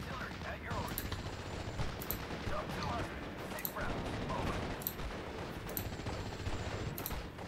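Distant battlefield gunfire in the strategy game Steel Division: Normandy 44, sharp scattered shots and bursts over a constant low rumble of combat, with faint voices at times.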